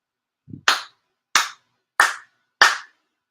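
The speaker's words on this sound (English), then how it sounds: "So hiding. 4 sincere claps." Four deliberate hand claps during a Japanese appreciation prayer service, crisp and evenly paced in a hushed room, preceded by a faint low thump.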